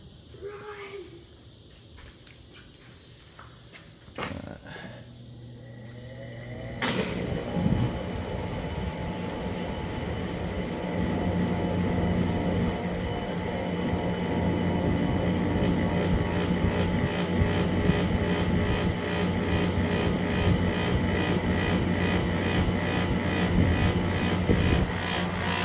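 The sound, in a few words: 2003 Kenmore window air conditioner compressor running, pulsating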